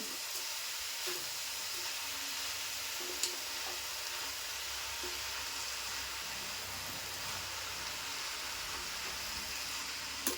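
Fenugreek (methi) leaves sauté in a hot pan with a faint, steady sizzling hiss throughout, broken only by a few soft clicks.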